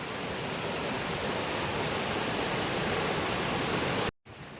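A Konkan river or stream swollen after a night of heavy rain, rushing hard: a dense, steady roar of water, close and continuous, cut off abruptly near the end.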